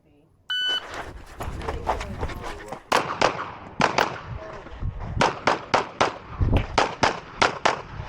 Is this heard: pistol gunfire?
yes